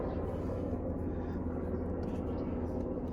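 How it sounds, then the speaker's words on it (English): A low, continuous mechanical drone of a helicopter overhead, steady and moderately faint throughout. "Helicopter's going overhead."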